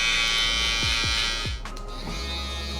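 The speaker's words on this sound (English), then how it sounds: "Now with our shaver, we're gonna go up first and then flick up towards the top right here." An electric shaver buzzes steadily while cutting hair during a drop fade haircut, with several quick pitch sweeps as it is pressed and flicked upward against the head, close and continuous.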